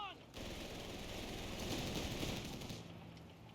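Sustained machine-gun fire in a competitive 1v1 strategy video game match, a dense, continuous rattle lasting several seconds at moderate level.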